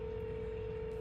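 A steady electronic phone ringing tone hums continuously, a single sustained pitch at moderate volume with no pauses.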